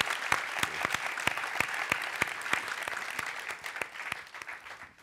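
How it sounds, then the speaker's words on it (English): Applause from a lecture audience welcoming a Nobel laureate's talk on social business, dense steady clapping with some sharper individual claps, fading out toward the end. "A big applause."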